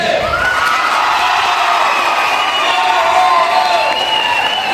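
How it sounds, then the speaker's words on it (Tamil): A large audience at a college speech cheers and claps continuously, loud and steady, with high shouts and whoops rising over a dense wash of applause. "தயவு செஞ்சு நீங்களே ஒரு தடவை கை தட்டிடுங்க"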